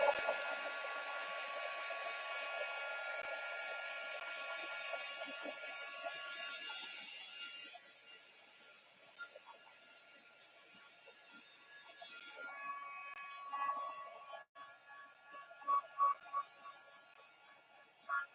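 A hair dryer blows on wet paint splatters, a loud steady whooshing hum that runs for several seconds, then drops off, leaving quieter rustling and a few soft knocks near the end.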